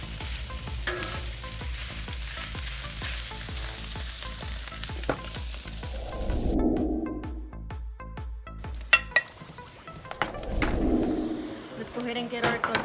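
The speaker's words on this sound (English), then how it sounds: "just gonna let it cook a little bit longer so we can get that crispiness on the meat" Discada meat frying flat in a pan to crisp, a steady sizzle with occasional stirring scrapes and clinks of cookware, under a person talking; the sizzle swells briefly midway and again near the end.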